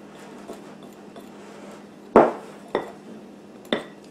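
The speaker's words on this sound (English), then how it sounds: "And you're going to cut it in. This is a pastry blending fork." A pastry blending fork cuts shortening into flour in a mixing bowl for Southern skillet hoe cake: three sharp metallic clinks against the bowl, spaced about half a second to a second apart, over a faint quiet background.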